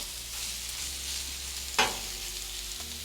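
Steak pieces sizzling in a hot pan for steak fried rice, a steady frying hiss with a brief sharp burst as the meat is stirred and mixed.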